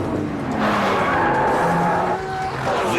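Lamborghini and Ferrari police cars race hard on a track, with loud, close engine roar and squealing tyres that rise and shift in pitch throughout, no talk over them.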